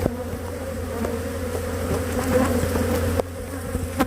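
A close, continuous hum rises from the massed honeybees of an opened hive, with a few soft knocks and taps mixed in. The drone stays fairly even throughout, and there is no talking.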